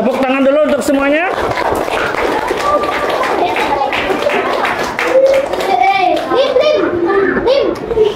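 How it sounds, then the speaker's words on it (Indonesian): A classroom of children in an Indonesian school bursts into sustained hand clapping, mixed with lively kids' chatter and shouts throughout, loud and close. "Ya, tepuk tangan dulu untuk semuanya."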